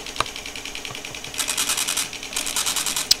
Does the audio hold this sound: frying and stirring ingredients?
no